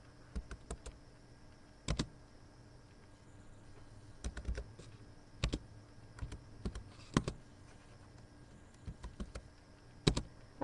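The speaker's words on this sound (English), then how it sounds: "I simply begin typing the values and pressing Enter between each one." Soft, scattered clicks of calculator keys being pressed in irregular bursts, quiet and close with a faint background hum.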